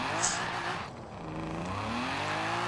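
Car drifting in a racing video game, tires squealing in long sliding tones over a steady engine hum, close and fairly loud, with no talking.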